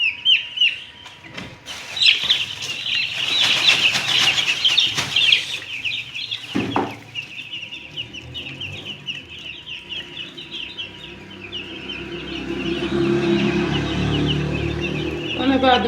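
Three-day-old white chicks peep in their enclosure, a steady, high-pitched chorus of chirps running nearly throughout, with someone talking over it and a few rustling bumps in the middle.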